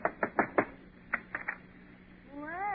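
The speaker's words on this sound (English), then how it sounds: "knock on the door" Knocking on an apartment door in an old radio comedy: a quick run of four sharp raps, a pause, then three more, followed by a rising and falling tonal sound.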